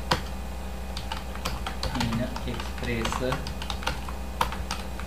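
Fingers type on a computer keyboard, a run of close, uneven key clicks while someone speaks over them.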